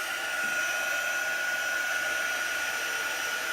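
A heat tool blows steadily to dry chalk paint on a Christmas Santa sack, a loud continuous whirring hiss that runs unbroken and alone from start to end.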